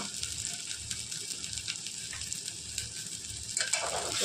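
Coriander powder, turmeric and asafoetida roast in hot oil in a pan, giving a steady close sizzle and frying hiss with light stirring, and no talk.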